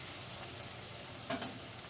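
Onions frying in a pan on a lowered flame give a faint, steady sizzle with a single brief scrape of a utensil partway through.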